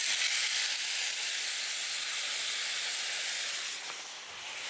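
Pork sizzles in a very hot 14-inch cast iron skillet, a loud, dense, continuous hiss that eases slightly near the end.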